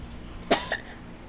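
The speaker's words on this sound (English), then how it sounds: "Don't cough now." Single short cough at close range, a sharp burst followed by a softer second catch, standing alone against quiet indoor background.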